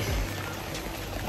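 Heavy rain pours down in a steady, dense hiss, close and unbroken, with no voices.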